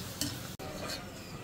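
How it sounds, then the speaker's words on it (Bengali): Fuchka puris frying in hot oil, a steady broadband sizzle with a few stirring scrapes and one brief dropout midway, close and moderately loud with no talk. "দেখেন তেলে দেওয়ার সাথে সাথে কীভাবে ফুল উঠতেছে।"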